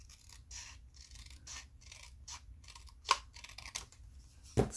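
Scissors snipping a small paper tag shorter, with a few faint, close cuts and light rustling of paper in a quiet room, ending in two sharper snips.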